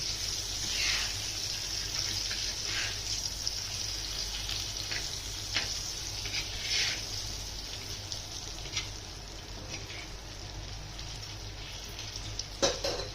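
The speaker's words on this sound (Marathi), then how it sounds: "आता दुसऱ्या साईडने पण छान असे फ्राय होऊ द्यायचे" Raja Rani fish frying in oil in a pan on a gas stove at low flame, a steady close sizzle with soft crackles and occasional small pops, no talking.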